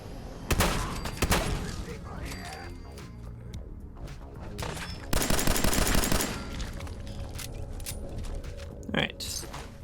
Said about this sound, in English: This incendiary shotgun's actually pretty okay.